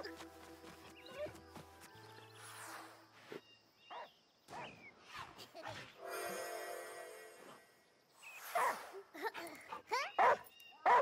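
In the video game Last Day of June, a dog barks and yips while playing with a ball. Scattered game sounds and soft whimpers lead to a cluster of sharp barks near the end. No one speaks.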